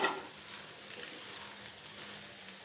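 Potatoes, one chopped and one mashed, with chickpeas (chhola) sautéing in spiced oil in a pan: a steady, soft, even frying hiss that carries on without breaks and stays fairly quiet, with no voices.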